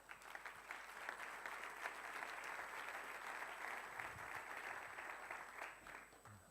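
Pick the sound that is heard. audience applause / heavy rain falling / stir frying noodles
audience applause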